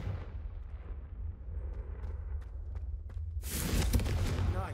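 A fiery Confringo spell blast in Hogwarts Legacy erupts as a sudden loud burst over a constant low rumbling game backdrop, preceded by a few faint ticks and lingering for over a second.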